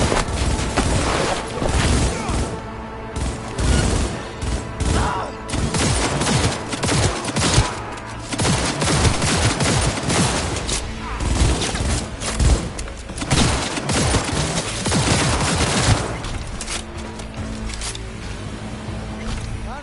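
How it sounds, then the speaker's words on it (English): Gunfire from enemy elite squads in the video game Cyberpunk 2077, with dense bursts of shots and booms rolling continuously at high, steady intensity under a dramatic backdrop. "They're here! They're opening fire!"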